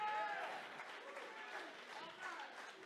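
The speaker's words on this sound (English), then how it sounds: "give him a clap offering" A church congregation gives a clap offering during a sermon, a dense, moderately faint round of applause with voices calling out over it near the start.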